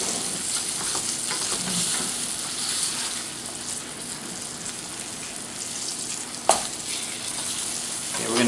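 A flipped tilapia fillet sizzles in a pan of butter, a dense, even hiss of frying that carries on steadily and close, with one sharp clink near the end.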